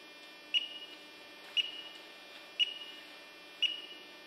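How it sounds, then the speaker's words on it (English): Four short electronic beeps from a water activity meter finishing a measurement, evenly spaced about a second apart, over a quiet background hum. "the machine will beep a few times to indicate the completion of the measurement"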